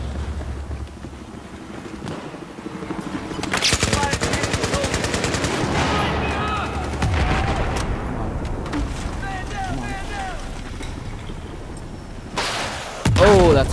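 Battlefield 4 gameplay with loud, close bursts of rapid machine gun fire, scattered single shots and explosions over continuous game noise, while a player talks.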